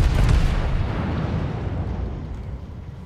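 Shell hits on the Tier 10 battleship Montana in World of Warships, a loud heavy explosion boom that rumbles and slowly decays, alone without talk.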